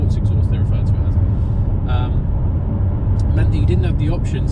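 A 2019 Mercedes-AMG CLS53 with a sports exhaust, driven in Eco mode, lets out a low, steady groan from inside the cabin, quietly underneath someone speaking.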